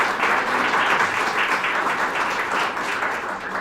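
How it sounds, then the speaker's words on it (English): Audience at a poetry awards reading breaks into sustained applause, a full, even wash of many hands clapping that stays strong and fades only a little over several seconds. "let's give her a round of applause"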